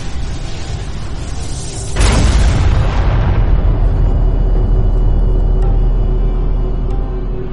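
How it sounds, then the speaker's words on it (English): A sci-fi EMP weapon fires in the strategy game Homeworld: Deserts of Kharak, setting off a sharp, loud blast that swells into a deep, rumbling explosion and slowly fades. "Fire EMP. Uplink positive. Firing."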